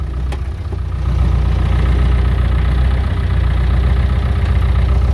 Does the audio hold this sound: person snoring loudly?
no